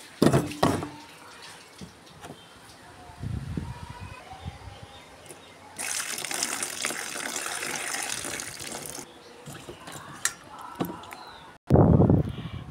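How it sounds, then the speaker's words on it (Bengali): Lemons are rinsed in water for pickle: gentle splashing and handling first, then a few seconds of loud running tap water, quieter dribbles and sloshes, and a final burst of splashing. "এর জন্য প্রথমে লেবুগুলোকে ভালো করে জলে ধুয়ে নেব।"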